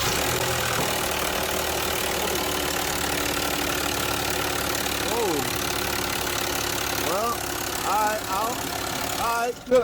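A V6 engine idles steadily with a clattering valve train noise running throughout, close and loud, with faint background voices and a brief bump near the end.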